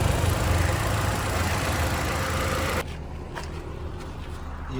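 Old scrap car's engine running after starting, a steady loud idle with broadband rumble that drops to a quieter, smoother hum partway through, close by and alone.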